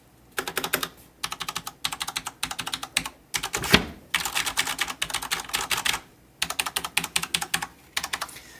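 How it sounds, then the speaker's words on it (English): Roccat Ryos MK FX RGB mechanical keyboard switches clatter in rhythmic bursts of rapid keystrokes, separated by short pauses, close up with a sharper clack partway through. "So let's hear now for the sound of the keys themselves."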